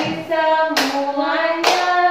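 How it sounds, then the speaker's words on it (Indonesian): A couple of sharp finger claps from children ring out over their voices holding a sung, chant-like tone. "tepuk 3 jari, tepuk 4 jari, tepuk 5 jari, bunyi"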